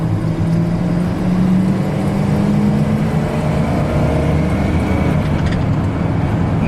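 A 1996 Ford F-250 4x4 extra cab pickup drives along with a steady, continuous engine and road drone, a low hum rising slightly as it gets up to speed, heard from inside the cab.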